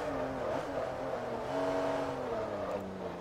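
A race car engine in Forza Motorsport 3 holds a steady, loud drone, its pitch rising and dipping slightly as the unstable car is driven, with no voices over it.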